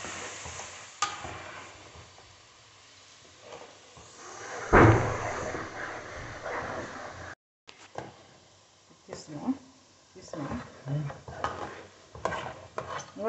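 Tomato pickle with coarsely ground garlic stirs and fries in a pan in a Telangana home kitchen, a soft sizzle with scraping strokes and a sharp clatter midway, while someone talks over it.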